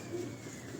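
Pigeons coo in a brief, low, soft burst, faint and close against a quiet background hum, with no other sound standing out.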